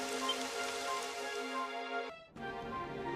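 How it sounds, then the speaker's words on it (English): Steady rain falls in Dragon Quest XI, an even hiss with a brief dip before it resumes, layered with sustained tonal game ambience and no talking. "It would have to go and start raining, wouldn't it?"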